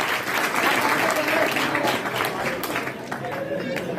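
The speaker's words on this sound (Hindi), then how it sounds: "तालियां कमजोर है आपकी भैया" Audience clapping at a Hindi hasya kavi sammelan poetry gathering, a steady wash of applause from a crowd that holds for a few seconds and then gradually thins.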